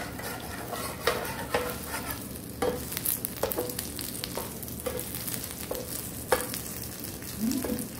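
A squid kimchi pancake fries in a hot pan, giving a steady close sizzle and crackle broken by several sharp utensil taps and scrapes against the pan.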